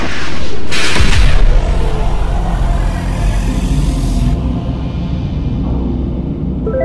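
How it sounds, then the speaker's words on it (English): A plasma injector fires during a reactor start-up in a Roblox power complex, a heavy booming surge rising to a loud rumble that rolls on and slowly fades over a low mechanical hum. "Firing plasma injector."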